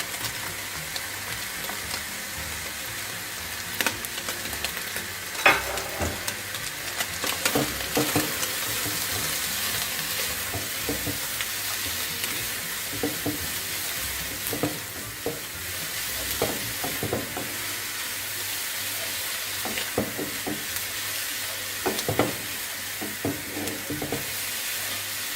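Vegetables stir-fry with egg in a pan for fried rice, a continuous close sizzle broken by frequent scraping and tossing clatters of the spatula throughout, with no voices.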